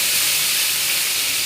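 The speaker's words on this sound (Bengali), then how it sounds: "তারপরে কুচিয়ে রাখা বেগুনগুলো তেলে ছেড়ে দেবো।" Chopped eggplant dropped into hot oil, a loud, dense, continuous sizzle with a hissing spray quality that holds evenly throughout, close by and without speech.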